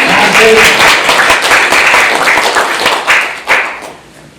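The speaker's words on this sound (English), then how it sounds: "Everybody, clap hands." An audience claps hands together in a loud, sustained burst of applause that fades toward the end, with a few sharper claps standing out.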